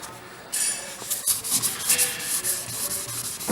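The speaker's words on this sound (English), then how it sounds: "we're just sanding off" Wet and dry sanding with 1000 grit paper rubs old primer off the paint of a 1970 VW Deluxe Microbus, close rhythmic back-and-forth scrubbing strokes, moderately loud and steady with no talk.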